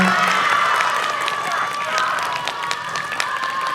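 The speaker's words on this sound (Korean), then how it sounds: "자, 우리 이낙연 강사님을 큰 박수로 맞이해 주시기 바랍니다" Elementary school children cheer and clap together to welcome a guest lecturer at a school assembly, a dense, steady wave of shouts and applause lasting the whole stretch with scattered sharper cries on top.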